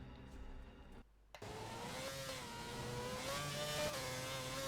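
A Red Bull Renault Formula 1 car on the Silverstone circuit in a racing game, its engine a continuous high whine that climbs steadily in pitch as it accelerates, broken by one brief dropout near the start.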